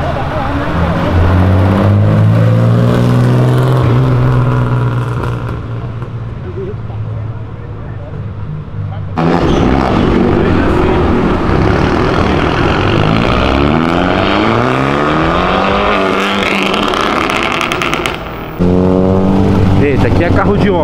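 A VW Up TSI engine revs and accelerates loudly up close, pitch climbing through gear changes with brief drops between pulls, a steady strained drone throughout.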